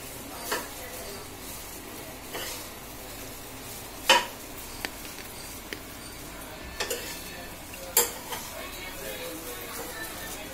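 Egg fried rice stirred in a hot pan, with scattered clinks and scrapes of a utensil against the metal over a faint steady sizzle and low room noise.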